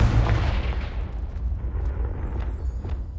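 A Confringo explosion spell in Hogwarts Legacy bursts with a deep, loud boom that rolls off and fades into a rumbling tail.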